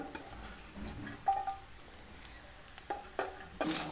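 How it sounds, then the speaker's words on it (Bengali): Chopped tomato and green chili being stirred in a frying pan: a soft, faint sizzle broken by intermittent spatula scrapes and light taps against the pan. "তো এখন আমি নেড়ে নিচ্ছি ভালো করে টমেটোটা আর কাঁচা লঙ্কাটা দিয়ে।"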